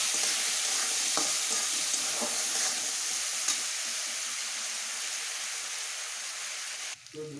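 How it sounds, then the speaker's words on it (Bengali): Chickpeas frying in a pan with turmeric and salt give off a steady, loud sizzle with light stirring, which fades slightly toward the end. "দিয়ে দিচ্ছি একটু লবণ, দিয়ে একটু ভেজে নিচ্ছি"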